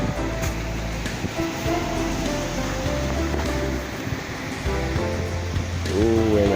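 Surf washing ashore at Pantai Raja beach in Pidie Jaya, a steady broadband roar of breaking waves, fairly close and continuous, with faint voices mixed in underneath.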